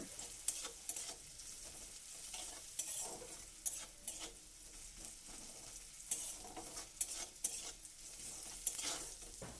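Onions are stirred and fried lightly in a pan, keeping them slightly raw, with a steady close sizzle and repeated scraping stir strokes throughout, with no voices.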